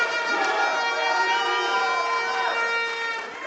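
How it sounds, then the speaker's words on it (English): A championship crowd at the 2025 Pan American Powerlifting Championships cheers on a 93 kg lifter attempting a world record, a sustained and fairly even roar of voices with whistle-like tones throughout. "Crowd's cheering him on."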